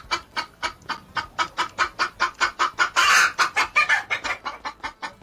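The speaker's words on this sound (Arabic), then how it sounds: "هذه يا شباب دجاجتي" A chicken in a GTA roleplay video game clucks in a steady, rapid series of about twenty close, fairly loud clucks, with a brief louder squawk partway through and no speech.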